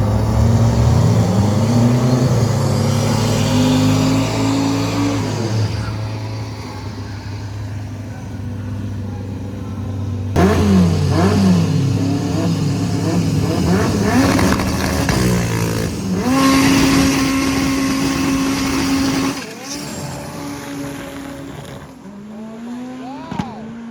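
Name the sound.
Honda Civic race car accelerating down the drag strip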